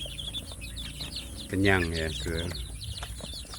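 Free-range village chicks cheep and cluck at close range, with a louder burst of calls midway, under a man's speech.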